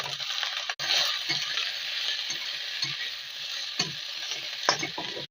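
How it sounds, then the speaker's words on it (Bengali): Dried fish frying with garlic and onion in a hot pan, a steady close sizzle with occasional stirring scrapes and soft clicks, no voices. "এবার দিয়ে দেবো শুটকি মাছটা। সবগুলোকে একটু ভালো করে ভেজে নেব"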